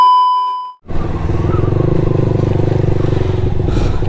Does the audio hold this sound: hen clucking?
no